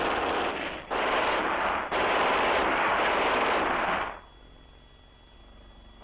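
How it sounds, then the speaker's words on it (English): Sustained platoon machine gun fire in a WWII-style infantry engagement, loud and continuous in three long bursts separated by brief gaps, then dropping away to a faint background rumble. "the platoon machine guns increase their rate of fire on the enemy"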